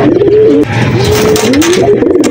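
Racing pigeon hens in a loft coo loudly and close by, giving several rolling, wavering calls in quick succession.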